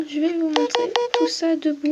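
A smartphone used for filming lets out a few short electronic beeps while someone talks over them during a clay-modelling demonstration.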